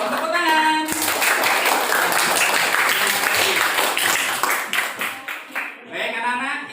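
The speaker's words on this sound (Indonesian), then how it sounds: "Semangat dong, tepuk tangan." A classroom of children claps for their teacher, a dense burst of hands that starts abruptly after a brief voice, holds steady, then breaks into uneven sparse claps before a voice returns.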